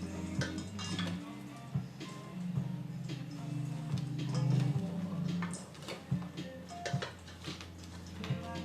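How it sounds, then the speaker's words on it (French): Cookie dough, one white chocolate and raspberry, is stirred in salad bowls, giving close, irregular scraping and tapping of a utensil against the bowl with light clinks. "nous pouvons commencer à remuer"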